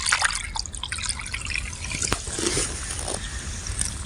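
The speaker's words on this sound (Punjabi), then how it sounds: "ਆ ਰਹੀ ਆਵਾਜ਼ ਪਾਣੀ ਦੀ?" Irrigation water flows into a wheat field and finds its way across the soil, a steady close trickle with bubbling drips and a sharp splash midway, heard alone without voices.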